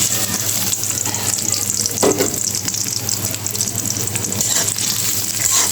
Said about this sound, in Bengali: এগুলো একটু লাল করে ভাজবো